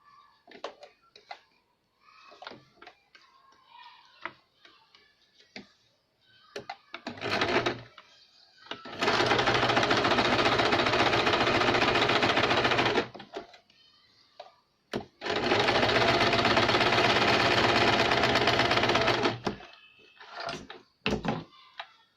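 A sewing machine stitches a double katori blouse in two long, loud, steady runs, each lasting several seconds, with brief pauses and quieter handling clicks before, between and after.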